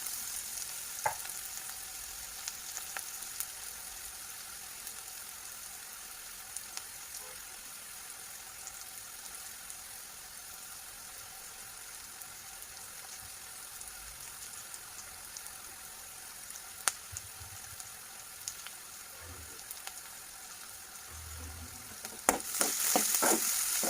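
Garlic and onion fry in a pan toward browning, a low, steady sizzle running for about twenty-four seconds with scattered small clicks and a brief louder clatter near the end, quiet and without speech.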